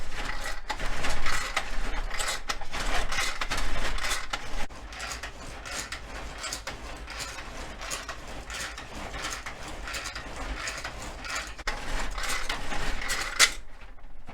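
Hand-cranked grinder grinding leftover ham, a continuous close rasping, crunching churn with repeated ratcheting clicks as the handle is turned steadily for about fourteen seconds.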